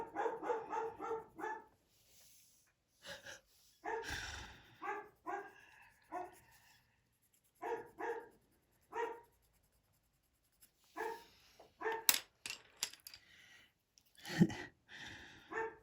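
A dog barks repeatedly indoors in irregular bursts of sharp woofs, some clustered and some single, fairly close but moderate in level, with quiet gaps between.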